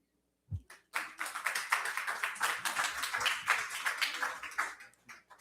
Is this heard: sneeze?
no